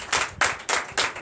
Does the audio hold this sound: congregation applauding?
yes